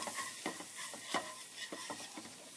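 Sea scallops searing in a pan with a little oil, a close, soft sizzle broken by repeated scraping and stirring strokes in an uneven rhythm, no voices.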